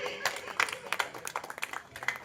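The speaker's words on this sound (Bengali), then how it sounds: "নিজেদের জন্য আগে একটা জোরে হাততালি দিন" Audience applause at a Saraswati puja cultural event, scattered hand claps of moderate loudness mixed with crowd voices.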